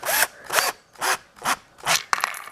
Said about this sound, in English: So I'm going to go ahead and drill a hole